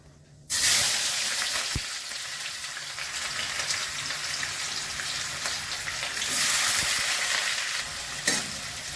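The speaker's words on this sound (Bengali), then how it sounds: "গরম মশলা ফোড়ন করলাম, পেঁয়াজ দিয়ে দিলাম" Onions hit hot oil tempered with garam masala and burst into a loud, steady sizzle that holds for several seconds, with faint stirring scrapes and a brief swell near the end.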